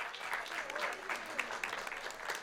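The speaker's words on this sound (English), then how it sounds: "I'm sure wherever she is, she will appreciate the applause." Audience applause at a theater tribute evening in New York, a steady wash of many hands clapping at moderate distance, fairly soft, with faint voices mixed in.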